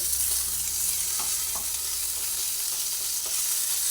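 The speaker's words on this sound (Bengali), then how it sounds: "আদাটা দেওয়ার পরে আবার আদাটা একটু ভেজে নিচ্ছি" Ginger frying in a pan of hot oil gives a continuous loud sizzle, with a few soft knocks from stirring and no voices.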